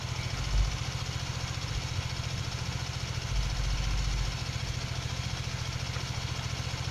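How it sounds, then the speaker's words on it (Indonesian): A motorcycle idles steadily with the exhaust close by, its low, even engine rumble running alone with a couple of slightly louder swells. "Nilai dari kedua sensor tersebut didapatkan ketika sensor diletakkan pada knalpot motor."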